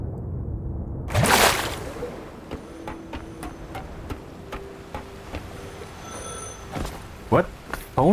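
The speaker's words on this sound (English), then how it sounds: "Phone is ringing?" Telephone ringing in the video game The Last Caretaker, thin electronic ring tones over a ticking, clicking ambience, with a brief whoosh early on.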